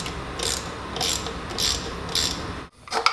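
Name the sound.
12mm wrench loosening thermostat housing bolts on a Miata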